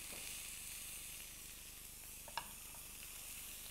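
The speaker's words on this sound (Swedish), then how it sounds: "Där har köttet stekt färdigt på den sidan." A beef entrecôte steak sizzles steadily in a frying pan with a constant, dense hiss and crackle, and one brief sharper pop partway through. No one talks.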